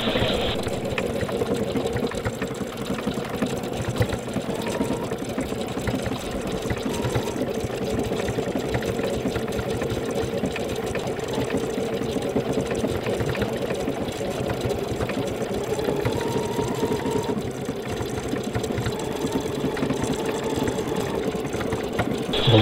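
A Bernina Chicago 7 embroidery machine stitches a design onto fabric, running as a steady, close mechanical hum with a rapid needle chatter that continues without pause, no voices over it.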